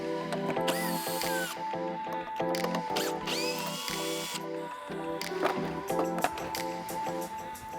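A cordless drill-type power tool runs in short, loud bursts while backing out two 10mm bolts behind the grab handle on a Jeep Wrangler's upper B-pillar, with whirring pulses and some clicks inside the vehicle.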